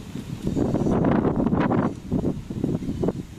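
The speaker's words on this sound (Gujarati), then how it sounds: "તો જો પવન કેટલો છે. વાવાઝોડા જેટલો 100ની સ્પીડમાં થઈ છે." Strong wind buffets the microphone in heavy, rumbling gusts that rise and fall, with no voices.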